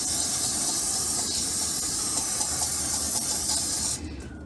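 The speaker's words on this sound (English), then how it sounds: "give the remaining area a bit of a hit with just some brake and parts cleaner" Brake and parts cleaner sprays from an aerosol can in a steady, close, loud hiss lasting about four seconds before cutting off abruptly.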